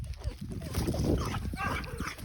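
A female dog named Phoenix whimpering and whining in short, soft yips close by, mixed with rustling and handling noises.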